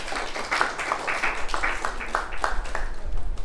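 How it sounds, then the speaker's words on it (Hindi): An audience claps for children at a quiz contest, a short, fairly quiet patter of applause with a steady uneven rhythm throughout. "तालियां बजाएं बच्चों के लिए"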